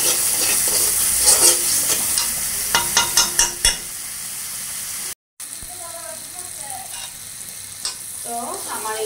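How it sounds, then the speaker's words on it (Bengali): Spices sauté and sizzle in a pan over lowered heat, with a run of sharp scraping stirs early on, then a quieter steady fry after a brief dropout, and faint voice-like tones drift in near the end. "চুলার আঁচটা এখন একটু ছোটো করে দিয়ে এটাকে একটু কষাবো"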